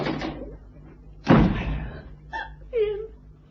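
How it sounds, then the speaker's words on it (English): In an old-time radio drama, a door is slammed hard once with a loud, close bang that rings out, after brief sounds of it opening, with voices speaking and reacting around it. "Cannon, when I open this door, I want you out"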